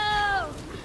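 A cat in the video game Ark lets out a single loud, close, drawn-out meow that falls in pitch and fades within a second.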